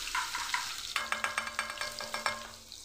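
Fresh garlic and ginger paste fries in hot tempering oil with cumin, a steady close sizzle broken by a run of rhythmic scraping stirs, with no voice.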